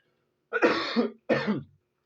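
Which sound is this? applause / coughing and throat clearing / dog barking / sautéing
coughing and throat clearing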